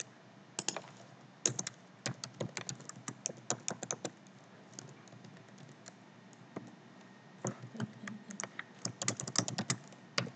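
Computer keyboard typing during a Joomla template coding session, irregular bursts of quick key clicks with short pauses, close and clear, no talking.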